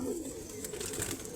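Pigeons in a keeper's loft coo softly in a continuous, low murmur, faint and steady throughout with no voices.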